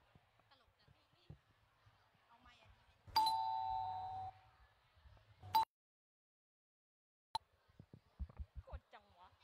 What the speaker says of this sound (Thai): เฮ้ยแกเสียงออดของมาส่งปะ